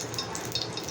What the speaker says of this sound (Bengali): মাছগুলো অল্প তেলে একটু করে ভাজি নেব।